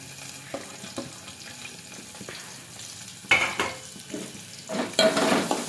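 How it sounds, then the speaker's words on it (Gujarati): Chopped onions and green chillies frying in hot oil for Maggi noodles sizzle steadily, with intermittent stirring clatter that swells into a loud burst of hissing and scraping near the end. "હવે આપણે આમાં ડુંગળી નાખી દઈએ"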